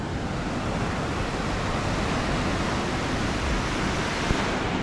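Atlantic ocean waves on the coast of Martinique make a constant, loud broadband roar of surf, close and unbroken throughout, with no voices.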